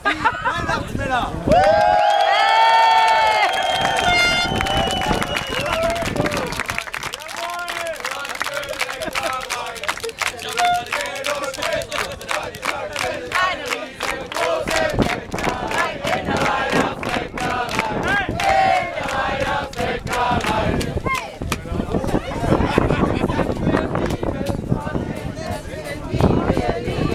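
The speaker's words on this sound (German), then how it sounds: "Applaus, meine Damen und Herren, für die Weihnachtsmänner." A festival crowd cheers, shouts and claps loudly for performers dressed as Santa Clauses, a dense continuous roar of voices and applause close around, with someone speaking into it.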